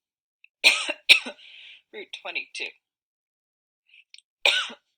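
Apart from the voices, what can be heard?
cough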